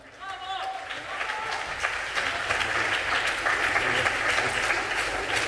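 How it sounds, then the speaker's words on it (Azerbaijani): Audience applause at the Baku 2006 International Jazz Festival, a dense, steady clapping crowd filling the hall, with scattered voices and cheers mixed in throughout. "Gəlin bir daha alqışlayaq."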